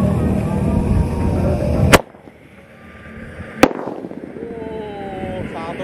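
A Mercon 1.9 Roman candle firework is set off on the eve of Eid al-Fitr, and two sharp, loud bangs ring out about two seconds apart amid background noise and nearby voices.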